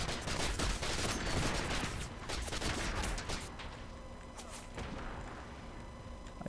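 Gunfire in the video game Minimum, with loud rapid bursts of automatic shots and thumps packed into the first few seconds, then sparser, quieter shots as the action continues.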